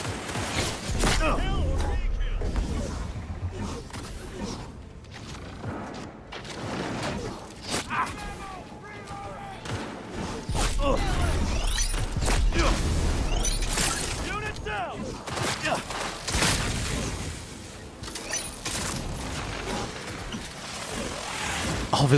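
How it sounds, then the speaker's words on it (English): Missiles slam into a roof during a boss fight with the Smasher in Cyberpunk 2077, heavy blasts and shattering debris rumbling in repeated bursts under a continuous game soundscape. "All of his missiles hit the roof."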